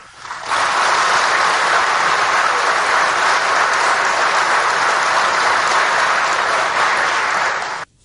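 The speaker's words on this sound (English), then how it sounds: "I told Cookie to leave the applause in rather than edit it out" Sustained applause from a large political rally crowd, loud and dense from start to finish, rising sharply at the beginning and cutting off abruptly near the end.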